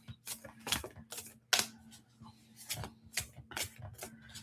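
Tarot cards are shuffled by hand in a series of quick, crisp riffling and slapping bursts, close and fairly faint against a low hum, without talk.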